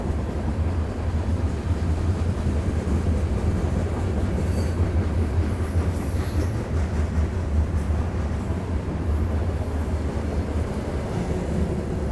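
A Conrail-era freight train of tank cars rolls past, a loud continuous rumble of wheels on rail with rhythmic clacking and occasional faint squeals, sustained throughout with no voices.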